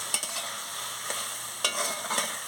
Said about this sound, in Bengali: ভালো করে একটু নাড়িয়ে নিচ্ছি